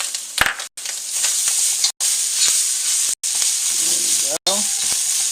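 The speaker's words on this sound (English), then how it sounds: "That'll start cooking up nicely. And then our sweet red peppers." Sweet red peppers sizzle loudly in a hot pan while frying for fried rice, a steady hiss broken by a few brief stirring pauses and scraping clatter.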